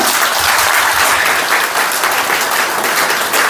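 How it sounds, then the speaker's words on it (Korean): Steady applause from a sizable crowd, dense and continuous clapping at an even level throughout. "큰 박수 부탁드립니다."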